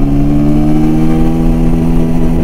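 A Bajaj Pulsar 125 motorcycle engine hums loud and close with a steady, mid-pitched drone, holding an even tone under acceleration through a low gear.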